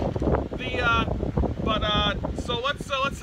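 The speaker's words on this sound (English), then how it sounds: "It is windy up here, so we might lose the camera for a second time." Gusty wind buffets a microphone outdoors, a loud steady rumble running through the whole stretch under continuous talk from a ringside host.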